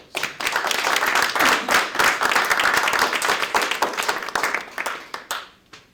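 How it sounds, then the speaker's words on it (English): An audience at a sister city ceremony in Indianapolis welcoming Santiago de Querétaro, Mexico, claps in a lively burst that builds quickly, holds with uneven individual claps, then thins to scattered last claps and stops. "That's worthy of applause."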